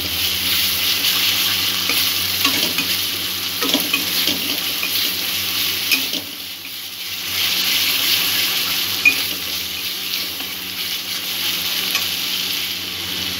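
Spice paste with poppy seeds stir-fried in a pan, a loud continuous hissing sizzle with faint scraping of the spoon running throughout, close up and steady, with no talking.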